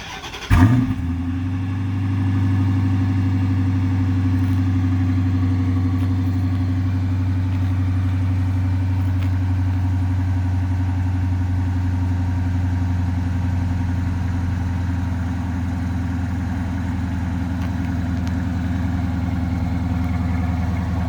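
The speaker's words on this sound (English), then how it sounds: "The little cold start, my 2013 Chrysler 300C." A 2013 Chrysler 300C fitted with a Dynomax Race Bullet Mini exhaust cold-starts: a quick crank and loud flare, then a steady, deep, throbbing idle that holds close and unbroken for about twenty seconds.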